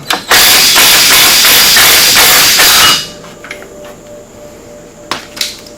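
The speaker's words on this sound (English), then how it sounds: "Now I'm taking the impact." An impact wrench loosening a bolt on the clutch of a Polaris RZR 900S, a loud rapid hammering burst for about three seconds, then it stops, leaving a quiet hum and a couple of sharp clicks.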